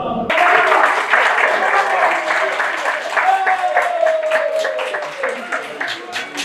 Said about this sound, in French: À l'annonce de la nouvelle, les générations ont applaudi longuement